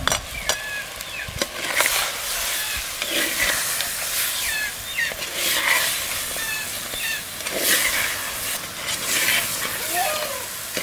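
Ginger, garlic, fennel and spices sautéing in a pan for a crab kulambu, a steady close sizzle with repeated stirring scrapes, and a voice talking over it at times.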